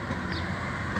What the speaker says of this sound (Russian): Ну что, мы поехали дальше. На трамвае.